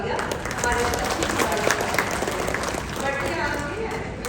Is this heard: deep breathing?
no